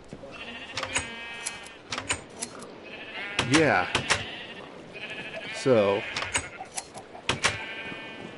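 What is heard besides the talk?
sheep bleating in Minecraft, a video game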